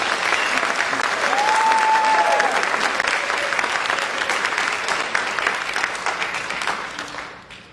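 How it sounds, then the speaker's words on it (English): Concert audience applauding orchestra students at a Christmas concert, loud sustained clapping throughout that tapers off near the end, with a faint held tone briefly audible beneath it. "So give a round of applause for the students."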